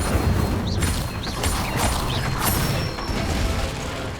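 An Incendio fire spell is cast in Hogwarts Legacy, giving a dense, crackling burst of effects with creaks and short whooshing chirps that carries on without pause and no talk.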